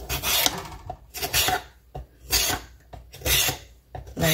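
Dark green skin is scraped off watermelon rind with a blade, heard up close as loud rough rasping strokes in a steady rhythm, about five passes separated by short pauses.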